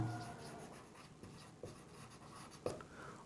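A pen scratches across a paper ledger by hand, soft close strokes with a few sharper taps, faint and quiet, with no talk over it.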